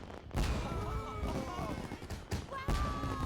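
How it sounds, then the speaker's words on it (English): Fireworks in the night sky from the game Persona 4: Dancing All Night, loud booming cracks and bursts arriving in quick succession, with a pause near the end before another burst, over a dense, noisy backdrop. "Fireworks blossom across the night sky"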